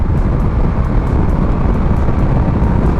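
A 2025 Indian Sport Scout motorcycle cruising in sixth gear at 70 mph, a loud, steady engine rumble mixed with strong wind rush, continuous and close with no talking.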